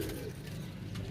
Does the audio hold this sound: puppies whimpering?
no